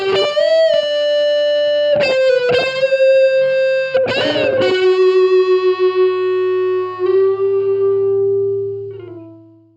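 Electric guitar through a drive pedal and a Walrus Audio D1 slapback delay, playing sustained, distorted notes and short strummed bursts with echoing repeats, loud and alone, ending on a long ringing note that fades out.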